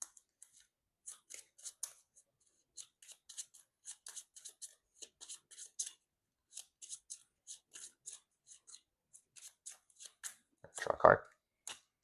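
Marvel Champions playing cards are shuffled in quick riffles and clicks, a close, dry rhythmic run of card snaps, ending in a louder rustle.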